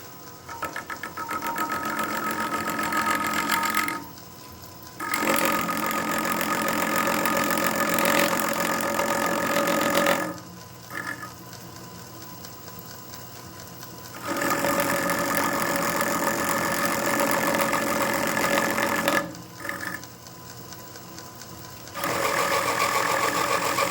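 A Myford ML7 hobby lathe parts off the head of a bolt, a steady close machine whine and cutting drone running in long stretches broken by brief quieter pauses, with no talking.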